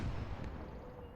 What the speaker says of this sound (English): God, I love the Panther gun.